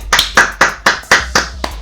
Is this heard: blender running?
no